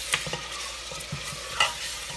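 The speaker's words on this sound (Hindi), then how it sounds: "गोश्त को थोड़ा सा बगैर पहले लहसुन अदरक के कुछ भून रही हूँ" Mutton pieces fry in oil for a shahi korma before any garlic or ginger is added, a close steady sizzle with stirring scrapes and a sharp clink of the spoon against the pan.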